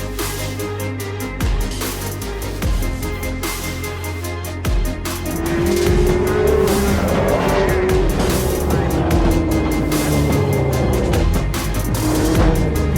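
Formula One race cars run at a Belfast city motorsport festival, engines screaming loudly and continuously with rising and falling pitch as they pass close by, with occasional tire squeal.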